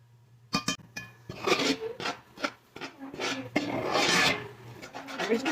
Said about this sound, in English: We're just going to give this just a loose stirring.